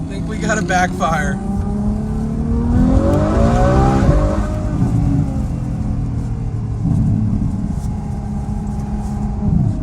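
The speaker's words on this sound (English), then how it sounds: "think we got a backfire." Ferrari F12 Berlinetta V12 with a Fi Valvetronic exhaust revs up and holds a loud, rumbling idle, with sharp crackles near the start; people talk in the background.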